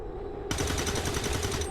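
A sudden sustained burst of rapid automatic gunfire in the tactical game XCOM 2: War of the Chosen, loud and close, cutting in after a short quiet lead-in and rattling steadily to the end.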